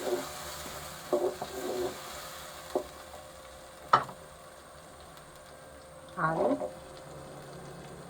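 Potatoes, peas, red chili, salt and turmeric sizzle and get stirred in a pan for a matar aloo curry, a faint frying hiss broken by a few scraping stirs, with a brief spoken word.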